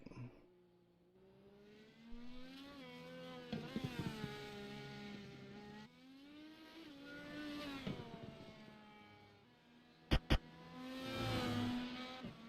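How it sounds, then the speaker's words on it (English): Indy race cars in a racing video game at the Okayama circuit, engines revving and rising in pitch through the gears, passing one after another with sharp pops and a loud surge near the end. "Let me make sure you guys can hear the cars at home."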